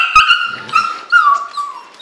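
Young puppies, about 26 days old, whimpering close by in a series of high, wavering whines and short yelps, with no other sounds around them.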